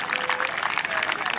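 A crowd at a 2019 kabaddi match in Lahore claps in a dense, continuous patter, with a voice talking over the applause throughout.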